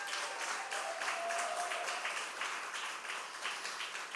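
Applause from an audience at the ACLU of Nebraska 60th anniversary celebration fills the room as a steady, fairly distant wash of clapping that holds throughout.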